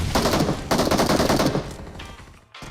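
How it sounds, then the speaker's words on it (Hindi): Loud, close bursts of rapid gunfire from the BGMI battle royale game, including DDS shotgun shots, crackling in dense volleys before dropping off briefly near the end. "अब यहाँ पे डीडीएस का एक शॉट चूक करने के बाद में इसको सेकंड शॉट में मार दिया"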